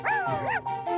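Cartoon puppies give a quick run of high, yipping barks and whimpers, several short bright calls close up within about a second, with no talk over them.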